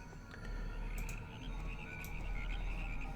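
Giant frogs croak in the video game Temple of Elemental Evil. The croaking runs continuously over a dense, steady ambient bed, with a few brighter chirps standing out.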